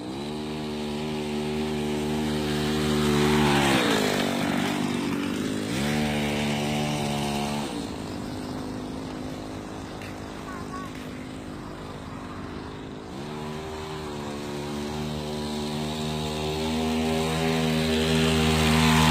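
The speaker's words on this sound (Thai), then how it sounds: "อันนี้เป็นจักกรยานเครื่องตัดหญ้านะคะ" A small two-stroke brush cutter engine, a 260 model mounted on a bicycle, buzzes loudly and steadily, its pitch rising and falling as it revs up and slows down throughout.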